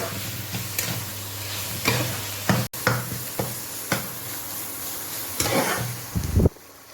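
Mustard greens and radish greens fry in a pan with a steady low sizzle, broken by repeated scraping stirs and a few utensil knocks against the pan, close and fairly loud, ending abruptly.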